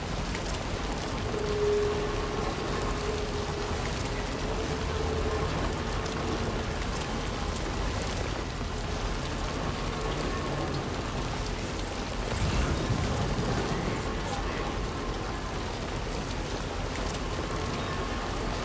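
Steady heavy rain hisses continuously in the video game Death Stranding 2: On the Beach, with low rumbling storm swells, and no talking throughout.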